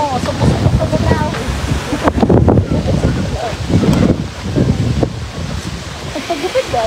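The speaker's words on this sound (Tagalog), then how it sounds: "Grabe ang hangin." Strong outdoor wind gusts buffet the microphone in loud, continuous rumbling bursts, with people talking over it.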